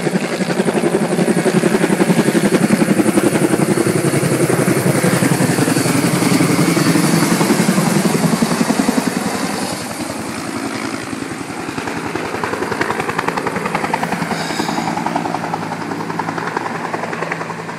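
A helicopter comes in to land just in front of an evacuation centre, its rotor beat and engine roar loud and continuous, easing slightly as it settles lower.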